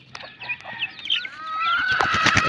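Pet chicks cheep at feeding time, with a scatter of thin, high chirps that build into a busier, overlapping chorus toward the end, close by and without talk.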